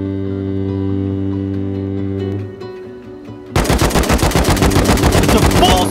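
Rapid automatic gunfire from the survival video game Rust breaks out after a sustained tonal hum, with loud, evenly spaced bursts of shots close by.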